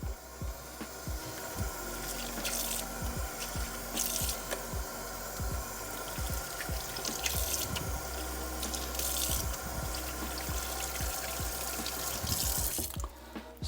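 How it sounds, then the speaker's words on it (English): A soapy synthetic wig is rinsed under a running tap, with a steady stream of water and wet squishing and dripping as it is handled close by. "And then we'll rinse the wig out just like this"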